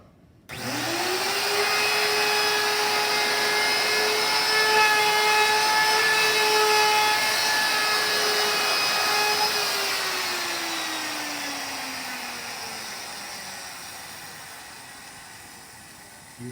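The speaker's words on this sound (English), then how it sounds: "You gotta hold that router until it absolutely stops." A hand-held wood router switches on with a sudden whine, holds a steady high-pitched motor scream for several seconds, then winds down gradually as the bit spins to a stop.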